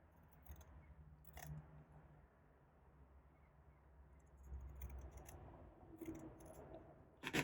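Scissors snip through paper for a junk journal page dangle along a drawn pen line, quiet close-up cutting with a few brief crisp clicks and rustles over a low steady background hum.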